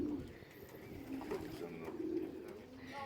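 A trained pet dove gives soft, repeated low coos, close by and steady, with a faint murmur in the background.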